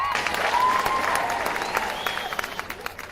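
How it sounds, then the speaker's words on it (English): Guests at an evening family celebration applaud both families, a full burst of clapping with a whistle and cheers over it that gradually thins out. "So round of applause for both families."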